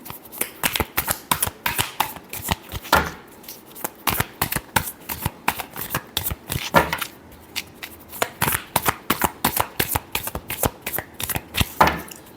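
A tarot deck is shuffled by hand in fast, repeated riffles and flutters, close and crisp, in bursts with short pauses between, and no talking over it.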